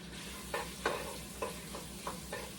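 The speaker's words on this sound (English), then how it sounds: "sauteing our chicken in our butter and olive oil" Chicken pieces sauté in butter and olive oil in a pan, giving a steady sizzle, while a spoon stirs and scrapes about five times at irregular intervals, with no talking.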